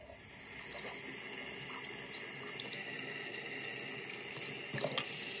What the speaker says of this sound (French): Je vais essayer de vous filmer quand je la rince.